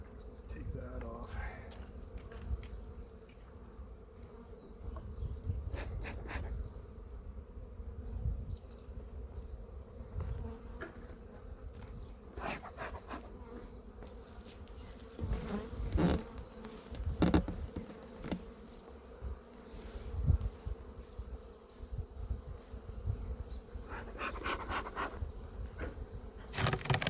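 Honey bees buzz continuously around an open hive during a feed and brood inspection, a dense droning hum with occasional bees passing close, plus handling knocks and someone talking intermittently.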